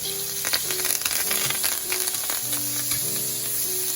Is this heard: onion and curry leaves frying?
yes